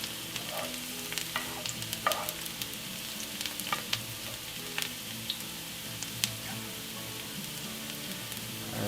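Onion sizzles softly in oil, stirred now and then, with a continuous quiet crackle and scattered light scrapes and taps from a utensil; no one speaks.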